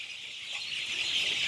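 Egyptian Fayoumi chickens on a farm, heard as a soft, fairly distant wash of high clucking and calls from the flock, steady and slightly rising.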